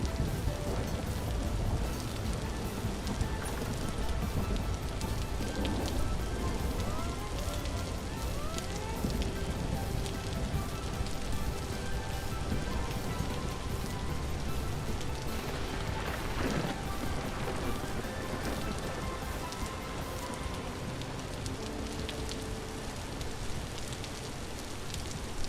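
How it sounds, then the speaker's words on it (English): Steady rain falls in the survival game Vintage Story, a continuous, even hiss of drops pattering on surfaces that holds at a constant level throughout with no voices. "I really wish it wasn't raining."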